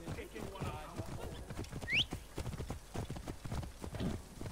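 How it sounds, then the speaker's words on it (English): Horse hooves clip-clopping at a steady trotting rhythm in the video game Assassin's Creed Origins, with a brief high whinny-like squeal in the middle and someone talking over the hoofbeats. "Let's get a horse."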